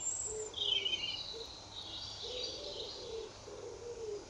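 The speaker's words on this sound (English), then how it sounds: "I don't think I'd realise just how much birdsong we have around us as well until I made this video" Birds sing and call around a garden pond in the UK, with a high whistling phrase, chirps and soft low cooing repeating at moderate distance over a quiet outdoor background.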